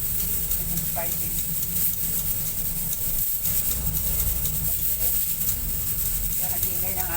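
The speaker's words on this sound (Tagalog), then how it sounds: "Yan ang ingay ng aking pressure cooker." A pressure cooker cooking chicken adobo gives off a steady, loud hiss that runs without a break beneath a dense rumbling noise in a home kitchen.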